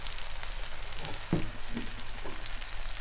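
An onion uttapam fries on a tawa with oil, giving a steady close sizzle that runs without a break, with faint scraping touches and no voices.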